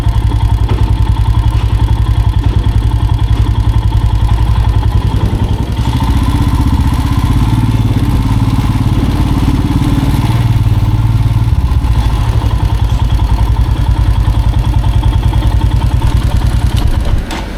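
A Royal Enfield Himalayan 411 motorcycle idles aboard a ferry, its engine making a loud, steady low thrum that continues throughout, with occasional faint clatter and a slight shift in tone midway.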